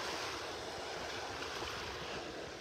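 A gusty east wind of up to about 20 mph blows across a beach in North Naples, Florida, a steady loud rush and buffeting that mixes with the wash of surf, with no talking.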